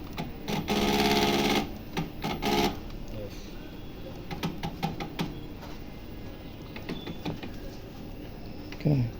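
Supreme SP 1010 BS embroidery sewing machine stitching jump stitches, bursts of rapid mechanical needle clatter separated by short clicks and pauses, with a person talking nearby.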